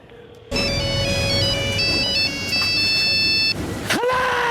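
A mobile phone ringtone plays a bright, repeating electronic melody over a background of film audio, cutting off abruptly before a voice answers.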